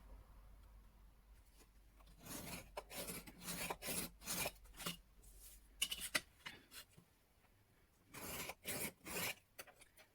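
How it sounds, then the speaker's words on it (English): A scoring tool run along cardstock to make a fold line gives faint, close scraping and rubbing strokes in short bursts, separated by quiet pauses. "we're going to score it so that there is a fold line for us"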